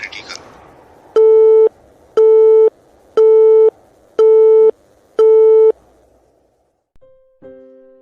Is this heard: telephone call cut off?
yes